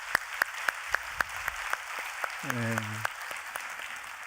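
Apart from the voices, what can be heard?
congregation applause in church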